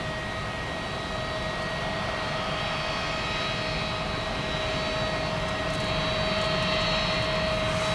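Military aircraft engines run steadily on a flightline, a loud continuous jet roar with a high whine held for the whole stretch, with no voices over it.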